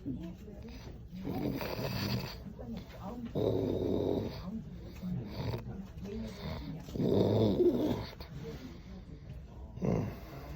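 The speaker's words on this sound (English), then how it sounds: "sorry for putting you through the snoring" A person with achalasia snores in a recording, giving deep, rasping, growl-like breaths in loud repeated bursts roughly every few seconds, with quieter breathing between them.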